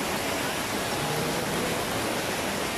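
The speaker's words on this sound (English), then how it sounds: "mini waterfalls. Lot of mini waterfalls" Mini waterfalls on a river during a trek to Pityak Falls in Dumanjug, Cebu, a constant broad rushing of falling water, close and steady with no talk.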